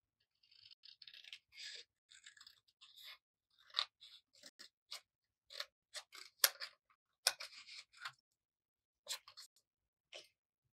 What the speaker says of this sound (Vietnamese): Để dán thì mình sẽ cắt cái tờ giấy màu xanh này nha.